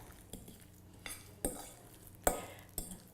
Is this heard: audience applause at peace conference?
no